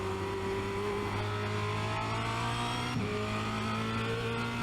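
A Formula Renault 2.0 race car at Spa-Francorchamps downshifts under braking, its loud, close onboard engine note holding a steady drone and then dropping in pitch as the gear change lands near the end.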